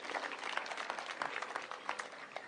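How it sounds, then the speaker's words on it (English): Applause at a school digital hub launch event in Kenya, a crowd's steady clapping heard from a distance, moderately faint and continuous for a couple of seconds. "A round of applause."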